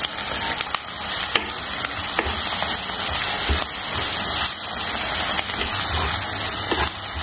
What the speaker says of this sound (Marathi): छान परतून घ्यायचं आपलं कांदा आलं लसूण सगळे मसाले.